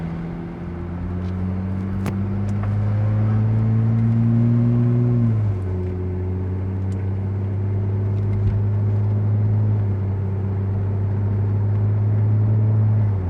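A 2002 Porsche 911 Turbo pulling away and accelerating, its engine droning steadily from inside the cabin with a rising tone, then a gear change dropping the pitch before it climbs again.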